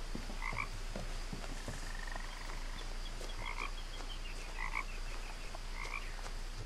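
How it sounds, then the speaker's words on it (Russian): A frog croaks in a forest area of the video game What Remains of Edith Finch, four or five short, moderately quiet croaks spaced a second or so apart over a steady low hum. "Жабонька."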